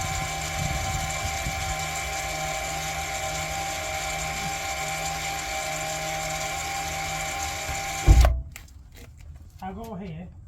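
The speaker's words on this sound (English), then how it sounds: "all that noise you can hear is the whole electric handbrake winding all the way in" Electric parking brake motor on a VW Passat B7 winding the rear brakes in: a steady mechanical whir and hum that runs for about eight seconds and then stops, followed by a brief voice.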